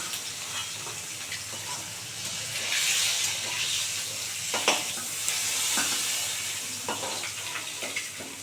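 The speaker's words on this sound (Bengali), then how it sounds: "একদম লাল করে ভাজা হয়ে গেছে বা তুলে নেবো একটা একটা করে" Pieces of aar fish fry in hot oil, making a steady sizzle and hiss with scattered pops and stirring clinks, swelling slightly midway; no talking.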